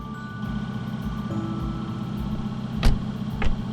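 A Tata Ace Gold BS6 diesel engine idles steadily with a low throbbing drone, and two sharp brief surges stand out near the end as the revs rise automatically during regeneration.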